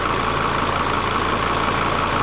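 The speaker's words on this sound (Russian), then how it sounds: "Запускаем двигатель." A car engine idles on its own, a steady, close, unbroken rumble with no voices.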